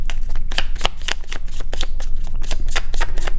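A deck of tarot cards is riffled in quick repeated bursts, each shuffle a crisp flutter of cards, close and loud with a steady rhythm and no talking.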